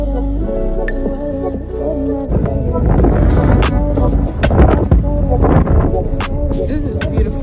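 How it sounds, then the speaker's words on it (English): Heavy wind at the beach buffets the microphone with loud rumbling gusts, mixed with clattering and shuffling movement nearby. "so it's windy out here"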